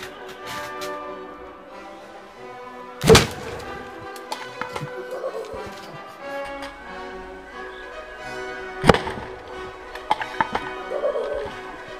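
Two sharp, distinct shots ring out from a Gamo CFX Royal air rifle, several seconds apart, each followed by small ticks and handling clicks in an otherwise quiet outdoor setting.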